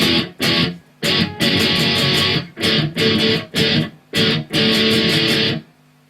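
Distorted electric guitar plays the intro of a song, loud, close and alone, in choppy bursts of heavy chords separated by short gaps, ending abruptly.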